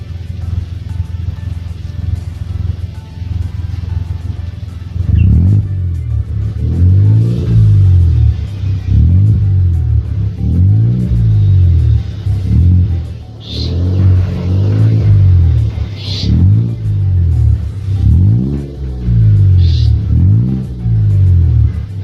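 A Datsun Go car engine with a modified exhaust revs repeatedly in steady surges, rising and falling about every second, loud and close with a deep rumbling exhaust note and no talk.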